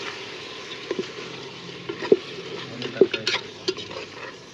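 Pieces of goat head fry in a pressure cooker for curry, a low steady sizzle punctuated by scattered sharp clinks and scrapes of stirring at irregular intervals.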